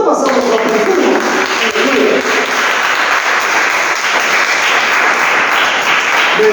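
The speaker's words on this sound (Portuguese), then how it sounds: "Vamos dar uma salva de palmas para o irmão." Church congregation applause after a morning sermon, a loud sustained wash of many hands clapping together, close and unbroken across the whole stretch.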